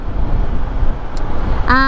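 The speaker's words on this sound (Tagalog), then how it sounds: "okay na ang aking busina ito" A single short motorcycle horn toot sounds near the end, after a steady rumble of engine and road noise.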